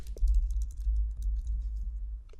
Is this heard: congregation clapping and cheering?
no